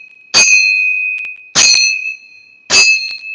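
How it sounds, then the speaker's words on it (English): Temple bells struck three times at even intervals, each a bright, loud metallic ring with a sustained high tone that rings on between strikes, heard alone in a quiet meditation setting. "As you hear the sound of the temple bells"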